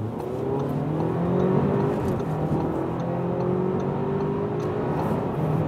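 A car accelerating hard from 40 km/h, a loud, steady engine roar with rising revs and some gear changes, heard from inside the cabin without talk.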